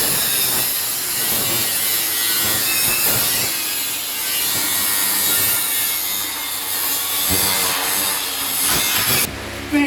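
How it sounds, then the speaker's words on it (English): An angle grinder bites through the welded frame of a motion sim platform with a loud, harsh, continuous grinding and rasping scrape that wavers as the cut is worked, then stops abruptly near the end. "I'm trying to hold the grinder horizontal, right? I don't want to chop into my mid frame like this or into the uni joint"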